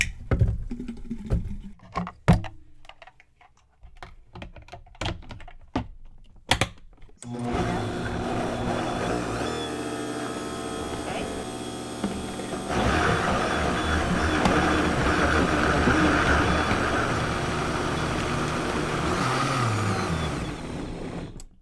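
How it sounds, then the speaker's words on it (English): A Vitamix blender pureeing strawberries: a few clicks and knocks first, then a loud, continuous motor whir that rises in intensity midway and holds steady as the fruit is pulverized, close up with no talking. "So as expected, the Vitamix did quick work of that. It didn't take long. It's finely pulverized."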